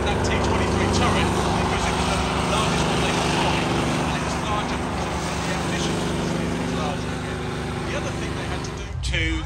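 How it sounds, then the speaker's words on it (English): Tank engines rumble and drone as armoured vehicles drive around at Tankfest, a broad steady roar with rattling tracks that cuts off at the end. "The wonderful engine notes of these vehicles driving around."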